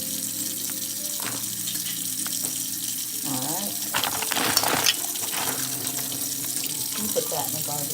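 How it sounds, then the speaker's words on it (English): Tap water runs steadily into a sink as frozen peeled, deveined shrimp and crab are rinsed for seafood gumbo, with splashes and clatter over a continuous gush and a voice talking at times. "we want to make sure that we rinse them"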